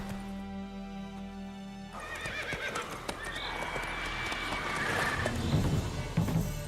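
Roach, the horse in The Witcher 3, gives a clear neigh and then trots with steady clip-clop hoofbeats over a busy game soundscape, the hooves growing louder and closer toward the end.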